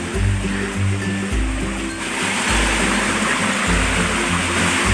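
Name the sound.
rushing water of a stream near a hidden waterfall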